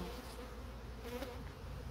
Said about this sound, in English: these bees had been raising a lot of babies